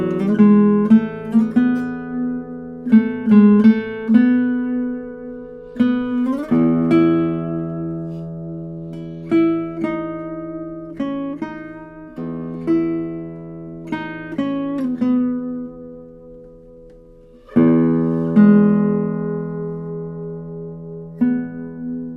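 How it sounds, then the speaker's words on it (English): A 1962 Robert Bouchet classical guitar played solo, with plucked notes and chords ringing out with long, resonant sustain, phrases separated by brief pauses, close and clear with no talking. "The guitar sounds so alive."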